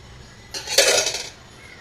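A metal pan set down on a stove and a spoon clinking against it, a single short burst of clattering kitchenware while making lemon rice.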